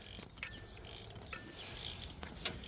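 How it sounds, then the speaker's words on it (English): Puller slowly pressing the crankshaft pulley (harmonic balancer) off a 2016 Infiniti QX80 engine, heard as several short bursts of creaking, ratcheting metal clicks separated by brief pauses, close by and with no talk. "It's pressing it off slowly but surely, pulling it off."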